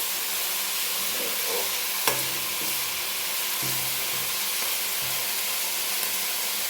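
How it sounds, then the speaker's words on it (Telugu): Onions frying in a pan make a steady, close hiss of sizzling oil, broken by a few soft clinks and scrapes of stirring, with no voices. "కలుపుతూ ఉంటే ఆనియన్స్ తొందరగా ఫ్రై అవుతాయి."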